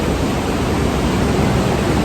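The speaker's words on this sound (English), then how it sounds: "Kind of like this river makes a lot of noise" A loud rushing river roars in a dense, continuous broadband wash, heard close and unchanging for a couple of seconds with no voices over it.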